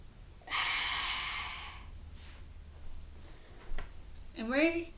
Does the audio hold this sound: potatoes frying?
no